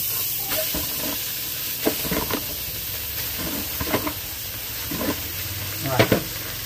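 Pork and pickled mustard greens sizzle in a pot on the stove, with a steady hiss broken by several louder bursts as the food is stirred and moved.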